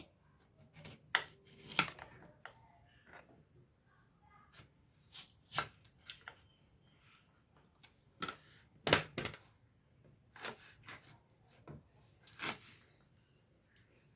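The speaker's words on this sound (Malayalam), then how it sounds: "ഇത് നോക്കുമ്പോൾ ചൗച്ചവ് ഞാൻ മുറിക്കുകയാണേ" A knife chops washed chayote (chow chow) on a cutting board for a fruit pickle, with irregular bursts of crisp, close knocks and taps, some clustered in quick pairs and others spaced out, over a quiet room.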